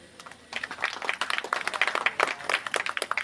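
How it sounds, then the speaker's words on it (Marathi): A lecture audience breaks into applause at a Buddhist vihara inauguration event, a moderate burst of many hands clapping that starts abruptly and continues steadily, moderately close. "मला असं वाटतं की तुमच्या टाळ्या पण कमी पडतात"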